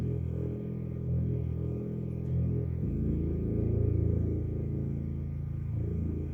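A wobbly bass synth plays alone, low and rumbling, its pitch shifting partway through with a steady pulsing motion; fairly quiet, with no talking.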